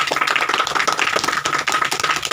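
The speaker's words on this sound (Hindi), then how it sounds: "हम सब लोग इनके लिए और इनके परिवार के लिए ताली बजाएंगे।" An audience claps for a pastor and his family during a Christian church service, a busy patter of hands that keeps up evenly throughout without pause, with no voices over it.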